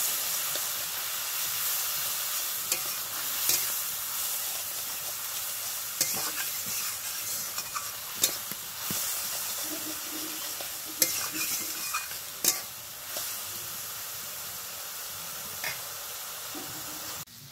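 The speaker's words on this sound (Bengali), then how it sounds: "তারপরে এটাকে খুব ভালোভাবে কষাতে হবে যতক্ষণ না অবধি তেল থাকে।" A spice paste with sour yogurt stir-fries in oil in a pan for a Bengali potol dish, giving a soft, continuous sizzle broken by occasional scrapes and clinks of stirring.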